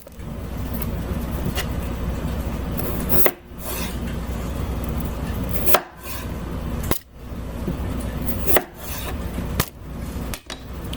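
Knife cutting potato wedges on a board, with sharp chops at irregular intervals over steady background noise, close by and without talk.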